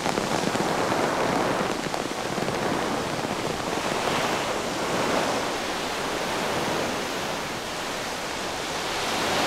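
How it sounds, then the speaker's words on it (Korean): Huge storm waves churn the sea, a dense continuous roar of crashing surf and spray, loud and unbroken with slow swells in intensity. "갑자기 불어닥친 폭풍으로 바다는 집채만한 파도를 만들어낸다."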